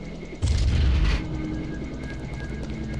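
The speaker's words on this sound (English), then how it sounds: "I wonder if the plasma gun can destroy this." A plasma gun blast in Deus Ex: The Conspiracy on PS2 strikes and destroys an object, a loud, close burst lasting under a second before fading into a steady low game ambience.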